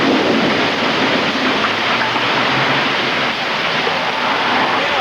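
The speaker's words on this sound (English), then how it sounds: "Then it begins to rain." Heavy rain pours during the July 1987 Edmonton thunderstorm, a steady, dense, loud wash of hiss with no break and no voices.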